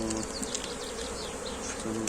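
Dense buzzing of many Anatolian honeybees close by at a hive in Eskişehir, a continuous droning swarm with individual insects whirring past, no voices.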